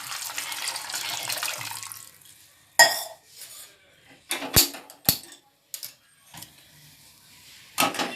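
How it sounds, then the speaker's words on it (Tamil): Water poured into a pot of soya chunks in a home kitchen: a short steady splash and trickle, followed by scattered clanks and knocks of the pot and utensils, close and fairly quiet. "அதில் கொஞ்சம் தண்ணி ஊற்றிடுவோம்."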